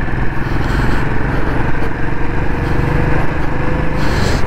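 Royal Enfield motorcycle engine on a chilly morning ride, a steady loud low thrum with a pulsing beat held throughout alongside road rumble and rushing air, and no voices.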